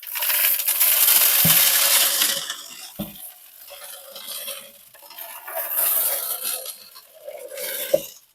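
Small hard aquarium stones pour and clatter into a glass fish tank, a dense rattling rush at first, then scattered clinks and a few sharp knocks.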